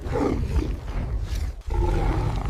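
A lion roars in a loud, sustained growling bellow that runs unbroken for over two seconds, with a brief dip near the middle before it surges again, heavy and close over a cinematic savannah scene.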